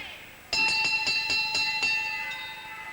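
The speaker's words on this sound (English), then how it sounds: "On the bell, round 7." A boxing ring bell rings at the end of round seven, a sudden loud burst of about six rapid metallic strikes that rings out and slowly fades, with crowd noise underneath.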